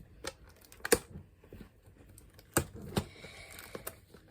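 Foil wrapper of a Mosaic basketball card pack being torn open by hand, with a few sharp crinkling rips and small rustles across a quiet moment.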